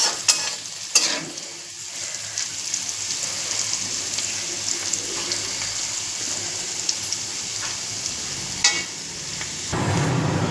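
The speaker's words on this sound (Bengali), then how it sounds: "কে আলু ভাজা শিখবে, শিখে নাও।" Potato slices fry with a steady crackling sizzle in a home kitchen pan for dinner, broken by a few sharp stirring scrapes and clinks, close and fairly loud with no talking.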